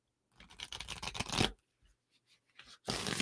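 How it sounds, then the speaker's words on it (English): A deck of cards is shuffled close up in two bursts of quick riffling and flicking, separated by a short pause with faint handling noises. "Shuffling again, because it's so weird how we pull the same cards."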